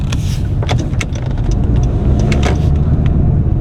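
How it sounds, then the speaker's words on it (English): A car being driven on the road, heard from inside as a steady low engine and road rumble with faint clicks and rattles over it, continuous and fairly loud. "I'm driving right now"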